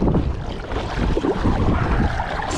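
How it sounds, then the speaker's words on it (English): Paddleboard gliding across a lake in gusty wind, with steady broadband wind rush and low water wash filling the whole stretch, close and fairly loud. "Just out here paddling through the elements."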